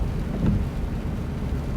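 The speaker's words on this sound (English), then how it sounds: "and it's raining" Steady rain falls on and around a car in near-freezing weather, a constant even patter and wash with no voices over it.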